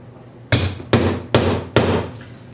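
A multi-tool with its jaws closed is used as a hammer, striking four sharp, evenly spaced blows, each a bright crack followed by a short ringing decay, close and clear.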